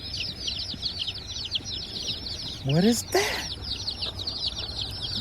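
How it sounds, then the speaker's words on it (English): Baby chicks inside a hatchery shipping box peep in a dense, continuous chorus of high chirps, moderately close. A person speaks briefly partway through. "Baby chickens! They're so cute, I see them in there."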